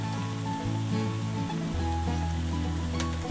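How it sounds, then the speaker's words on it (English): Steady bubbling sizzle of batter frying in hot oil, close and continuous, with a low hum underneath. "Let that sizzle up just a little bit."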